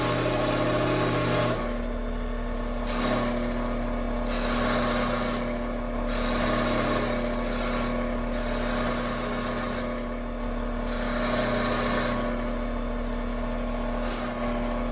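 Rust being scrubbed off a badly rusted antique jaw harp with a power tool, a steady abrasive rasping and grinding that rises and falls in short passes over a constant motor hum, close up and with no talking.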